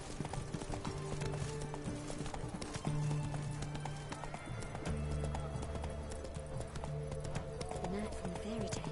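Steady clip-clopping horse hooves with a brief whinny in the video game The Witcher 3: Wild Hunt, set against continuous background music and someone talking over it.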